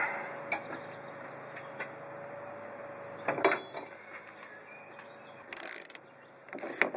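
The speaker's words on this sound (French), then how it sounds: "Allez, on desserre l'amortisseur." A ratchet wrench loosens a shock absorber on a Mercedes R129 500SL, giving brief metallic clicking bursts and ticks between quieter pauses over a low steady hum, with no talking.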